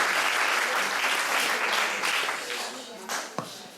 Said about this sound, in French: Applaudissements pour eux, s'il vous plaît